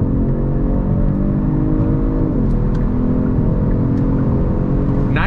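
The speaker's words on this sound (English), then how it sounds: "But let's go on throttle, here we go." A 2022 Genesis G70 Sport sedan under throttle, the engine note climbing steadily in pitch through acceleration with a smooth shift partway, loud and close from inside the cabin.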